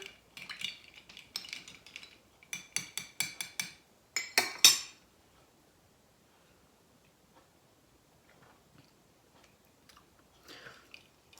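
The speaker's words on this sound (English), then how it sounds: "I guess we should give it a little stirry stir" A spoon clinks and scrapes rhythmically against a glass, stirring a homemade coffee liquor drink in quick bursts of bright tinkling for about five seconds, followed by near silence with a few faint taps.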